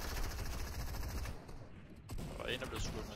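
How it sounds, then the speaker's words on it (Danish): Gunfire from a heavy sniper in the video game Fortnite bursts out loud and close, with a sharp crack followed by a ringing decay and further shot-like transients near the end. "En er blevet skudt med en heavy sniper"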